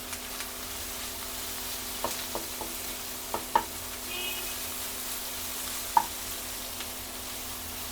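Vegetables sizzle lightly in a pan for Nepali-style homemade chow mein with tomato, a steady soft frying hiss with scattered small clicks and taps of stirring, close and moderately quiet.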